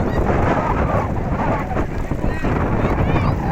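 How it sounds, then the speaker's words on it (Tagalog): Strong wind over open water at a fish-feeding spot roars and buffets the microphone continuously, a loud, dense rumble with no letup. "Mamaya na, malakas ang angin."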